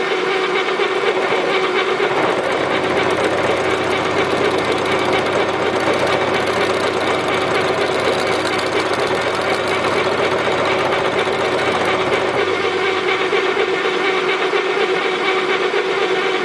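A rapid mechanical clatter runs steadily with a whirring motor hum underneath, a continuous rattling as a copper sheet is fed through a flanging tool.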